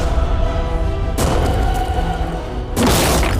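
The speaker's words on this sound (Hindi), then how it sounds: "टैंक्स की रैपिड फायर से मजा आ रहा है।" Tank cannon fire in a video game: loud booming blasts strike twice, once near the start of the second second and again near the end, each a sharp crash over a constant dense roar of battle noise.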